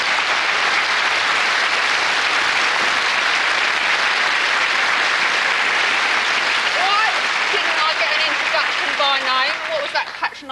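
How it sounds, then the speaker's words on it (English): A studio audience at a television comedy show claps loudly and steadily, a dense sustained applause filling the whole stretch, with a voice calling out over it near the end as the clapping begins to thin. "Come on, give her a round of applause."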